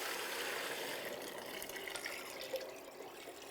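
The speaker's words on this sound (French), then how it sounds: "À ceci, on va venir ajouter notre 2 litres de bouillon." Two litres of broth pour into a soup pot for traditional Saguenay broad bean soup, a steady close liquid rush and splash running throughout without a break.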